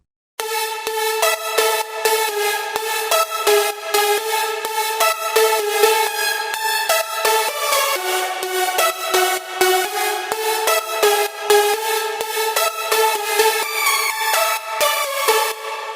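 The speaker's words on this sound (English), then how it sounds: "Let's hear full lead stack." A dense, layered progressive house synth lead stack made in FL Studio Mobile plays a busy melodic line, bright and sustained, with quick notes rippling over a steady tone.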